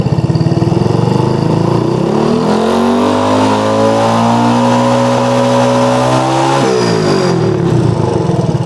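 A motorcycle engine is revved close by as the throttle opens, the pitch climbing and holding high before dropping back to idle near the end.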